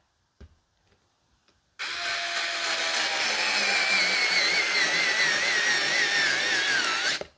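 Rechargeable electric screwdriver from a batch of inexpensive cordless models, a few faint clicks, then a loud steady high whir that runs for several seconds and cuts off abruptly.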